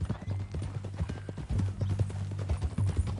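Horse hooves clip-clop in a steady walking rhythm on firm ground in the Western video game Red Dead Redemption 2, close and clear throughout, with no speech.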